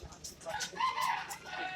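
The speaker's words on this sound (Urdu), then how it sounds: "یہ مرغا" A rooster crows once, close and clear, with a few brief hen clucks around it and a faint voice in the background.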